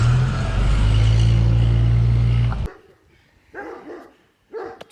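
Neighborhood dogs bark in a few short bursts outdoors after a loud engine-like drone cuts off abruptly, the barks fairly close and separated by brief pauses.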